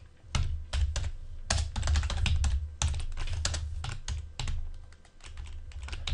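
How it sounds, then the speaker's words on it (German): Rapid, uneven keystrokes on a computer keyboard right beside the microphone: close, crisp clicks in quick bursts with short pauses, and no talking. "Ich will hoffen, euch ist das Getippe jetzt nicht zu laut, weil, wie gesagt, mein Mikrofon steht direkt neben der Tastatur"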